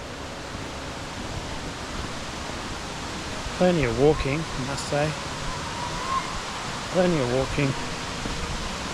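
Steady roaring rush of Millaa Millaa waterfall, heard loud and constant through the whole scene while someone talks over it.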